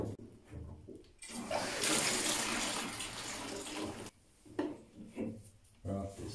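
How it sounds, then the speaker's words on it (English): Water runs from a bath tap into a bucket, a loud steady broadband gush for a couple of seconds that then stops, followed by a few knocks and handling sounds. "just run a bit of water into a bucket"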